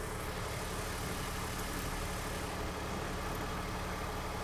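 A BMW E39 engine idles in park with its automatic transmission, producing a constant, even, moderately faint mechanical hum with no change throughout.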